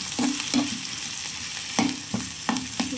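Turmeric and chili powder frying in hot oil for Bombay chutney, a continuous sizzle broken by several sharp stirring scrapes at irregular intervals, close and fairly loud, with no speech.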